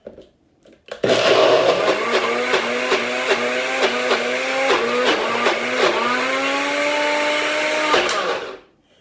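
A loud blender starts abruptly and whirs steadily for about seven seconds, its motor pitch shifting slightly as it churns, then cuts off.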